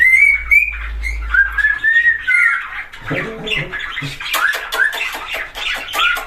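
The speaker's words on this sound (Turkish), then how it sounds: "Bakın arkadaşlar Sultan papağanı çalıyor işte" A cockatiel sings a run of bright whistled phrases, then breaks into a quicker stretch of chirps and short squawks, loud and close with no talking.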